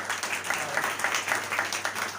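Scattered audience applause at a Palm Sunday church gathering, moderate and fairly distant, with uneven bursts of clapping over a steady low hum and no voices standing out.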